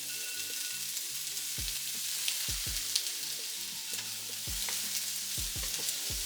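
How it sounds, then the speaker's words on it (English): Red peppers dropped into a hot pan with onions set off a steady sizzle, with several sharp low thumps and stirring scrapes through it. "And I drop in the red peppers."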